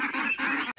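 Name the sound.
domestic ducks calling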